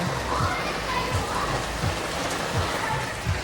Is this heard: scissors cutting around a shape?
no